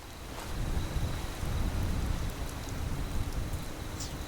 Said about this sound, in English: Fucking raining.